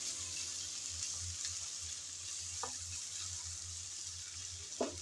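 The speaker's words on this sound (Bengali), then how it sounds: "কিছুক্ষণ সময় নিয়ে আমরা ভেজে নিলাম তেলের মধ্যে।" Amra (hog plum) chutney ingredients frying in oil in a pan, a steady close sizzle running throughout with a low hum beneath and a few brief clinks of a utensil against the pan.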